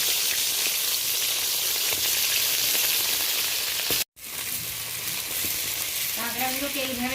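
Crabs fry in hot oil in a pan, a loud, dense, continuous sizzle with a brief cut partway through, then faint clinks from stirring near the end; no one speaks.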